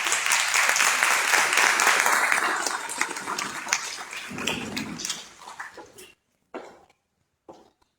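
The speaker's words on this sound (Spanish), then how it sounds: "a quien recibimos con fuertes palmas" Strong applause from a conference audience welcoming a speaker, loud and sustained for about five seconds, then fading into scattered final claps and silence.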